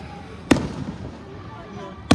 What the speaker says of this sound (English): No, the fireworks are good